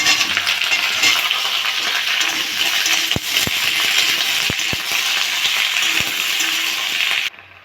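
Potatoes drop into a pan of frying bitter gourd for a vegetarian shukto, the loud steady sizzle of hot oil running throughout, punctuated by a handful of sharp metallic clinks near the middle before the sound cuts off.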